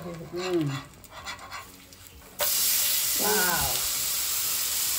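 Pancake frying in ghee in a nonstick pan, with a loud steady sizzle that starts abruptly midway, while someone speaks over it before and during the frying.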